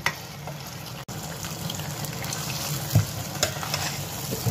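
Water goes into a pan of potato bhurta cooking with yogurt, bringing a steady sizzle and faint stirring, close and continuous, with small splashes and scrapes and no talking.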